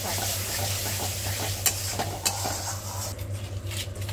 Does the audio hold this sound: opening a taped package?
no